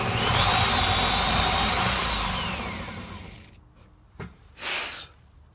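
A power drill with a self-leveler whines at high speed while an old bench is repaired, loud and close for about three seconds before winding down, followed by a couple of short bursts.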